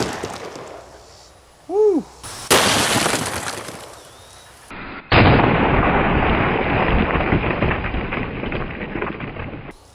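A 450 Marlin rifle fires a Buffalo Bore 430-grain hard-cast bullet into stacked concrete layers, giving loud, close blasts with crumbling, crashing debris that trails off over several seconds.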